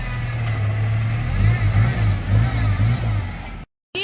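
A Jeep Comanche MJ with a 102 to 1 crawl ratio transfer case revs while crawling over a large obstacle, its engine surging in repeated pulses close by, with people talking over it before a sudden cut.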